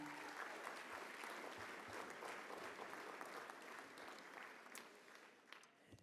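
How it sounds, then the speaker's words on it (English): A steady round of applause from the audience at the WESPY'S 2025 award ceremony, fairly distant and even, with dense clapping that fades slightly toward the end. "Can we give them a round of applause, please?"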